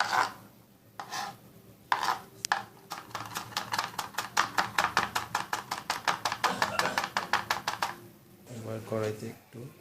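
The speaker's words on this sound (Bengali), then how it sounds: "আদা স্লাইস করবেন, ছোট ছোট ছোট করে।" Ginger is sliced into small pieces on a board, a rapid run of crisp, evenly spaced knife chops, close and clear, with a voice speaking briefly at the end.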